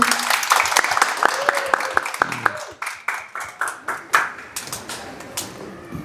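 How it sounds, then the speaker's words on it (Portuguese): An audience gathered for a talk with a Holocaust survivor claps, starting as a dense burst that thins into scattered, distinct individual claps fading out, with some voices faintly present underneath. "Então, uma salva de palmas para o Stefan."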